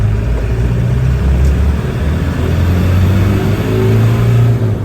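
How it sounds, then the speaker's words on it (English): A 1993 Land Rover Defender 110 with the 200Tdi diesel drives along, its engine droning and revving steadily through the gears, loud and close from inside the cab. "so let's take her for a spin. We'll run her through the gears."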